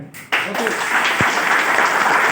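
An audience at a hotel program claps together, with steady, dense applause starting abruptly and continuing close and loud, with a voice faintly under it.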